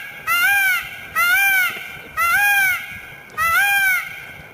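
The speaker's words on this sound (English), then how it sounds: "They got not 1, not 2, but 3 annoying squawks." A peacock gives four loud, harsh squawks in a steady rhythm, each about a second long with short gaps between, close by and standing clearly above a quiet background.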